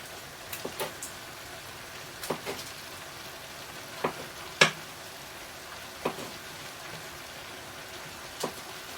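Butter pieces dropped into a pan with cabbage: faint steady sizzling and frying hiss, with scattered soft pops and clinks of the pieces landing and being moved around.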